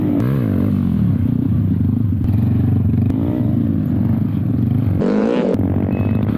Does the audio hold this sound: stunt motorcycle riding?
yes